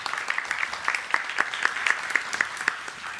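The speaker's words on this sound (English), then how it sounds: "Let's give a warm applause to Martin" A conference audience at a circular-economy event gives a modest round of applause, scattered claps with a few sharper individual hand claps, fairly distant and quiet.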